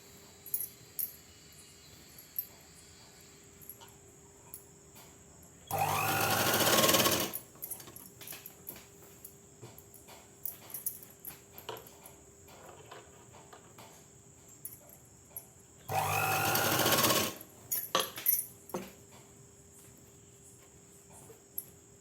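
A sewing machine stitching a salwar (sudithar) pant runs in two short, loud bursts a few seconds each, separated by quiet stretches with a faint steady hum and scattered small handling clicks.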